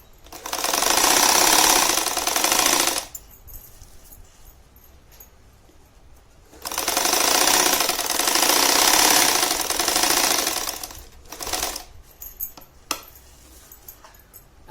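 A sewing machine stitches the lining of a five-pocket purse in two long loud runs of steady whirring, separated by quieter handling noises and a short final burst of stitching.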